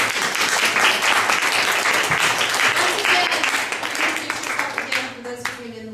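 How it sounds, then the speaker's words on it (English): Dense, steady applause from a theater audience honoring teen ambassadors and theater designers, loud throughout and easing slightly near the end as a voice begins to come through. "everybody give them a round of applause"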